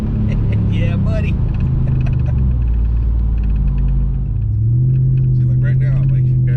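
Engine of a Whipple-supercharged Hemi Ram truck rumbling steadily from inside the cab, with a deeper surge as the throttle opens near the end, while people talk over it throughout.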